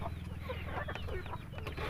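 Pet chickens cluck and chatter close by in a backyard flock, overlapping calls over a low steady hum.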